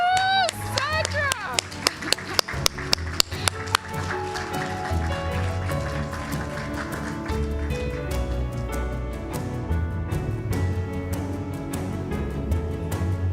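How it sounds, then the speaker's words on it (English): Applause for new sales masters at an Atomy New Zealand award ceremony, with sharp individual claps early on giving way to steady clapping over upbeat music, with a brief cheer near the start. "Please give her a big round of applause."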